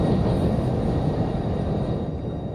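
AC locomotive rumbling along the Ferrovia do Aço line in the Open Rails train simulator, a loud continuous low-pitched engine and rail drone, steady throughout with no talk.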